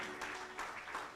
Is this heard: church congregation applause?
yes